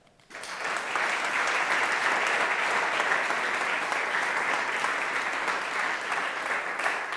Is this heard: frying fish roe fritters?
no